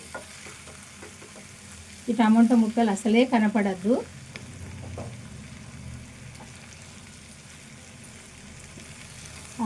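Potato and tomato pieces frying in a pan, a low continuous sizzle with scraping stirring noises, while someone speaks over it for a couple of seconds.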